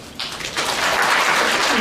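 An audience claps steadily for a board chairman at a quarterly staff assembly with disability awareness training, the sound starting abruptly and holding as a dense, even wash of hands.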